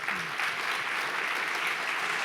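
A conference audience claps in steady, moderately distant applause, an even wash of many hands with a faint voice at the start.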